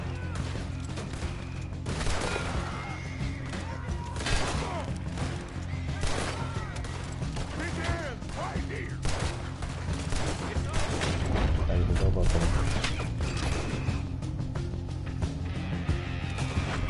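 Gunfire from Red Dead Redemption 2 cracks out in a long series of irregular shots and impacts over a dense background of gameplay sound, with someone speaking intermittently throughout.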